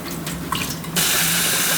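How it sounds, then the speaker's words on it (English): Tap water runs steadily into a sink as rice is rinsed, a soft trickle that turns into a louder, continuous rush of flowing water partway through, heard up close with no talking. "We have to wash the rice,"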